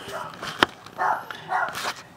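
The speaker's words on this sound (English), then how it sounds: "sorry for the barking in the background." A dog barks a few times in the background, short sharp yaps mixed with indoor room noise and faint movement.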